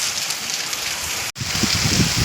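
Steady rain pours down near the microphone in a dense, even hiss of drops, broken by one split-second dropout, with heavier low patters and thumps in the second half.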